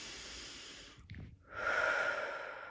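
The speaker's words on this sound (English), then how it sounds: "take a deep breath" One deep breath taken close and quiet: a soft inhale through the nose, a brief pause, then a longer, breathy exhale.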